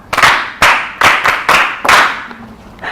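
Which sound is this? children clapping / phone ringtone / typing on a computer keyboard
children clapping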